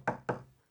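Two quick knocks on a door, crisp and close, with a short pause between them and a brief fading resonance after, then silence.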